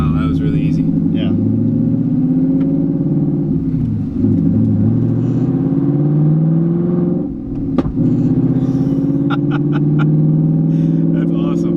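Bone-stock 2019 Ford Mustang GT V8 driving, a loud steady engine drone heard from inside the car with rising and falling revs, a brief dip near the middle, and voices talking over it.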